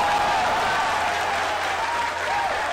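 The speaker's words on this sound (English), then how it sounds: "That's why everybody's cheering." A crowd cheers and applauds during a Rocket Lab rocket launch, a dense continuous roar of clapping and shouting that stays loud throughout.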